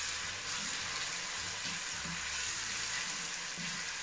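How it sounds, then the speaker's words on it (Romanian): Yellow bell pepper and capia pepper sautéed with onion in a pan, giving a steady, faint, hissing sizzle that barely changes, with no clear stirring strokes or voices. "Acum o să adăugăm și ardeiul gras galben și ardeiul capia. La fel, le mai călim împreună 2-3 minute cu ceapa."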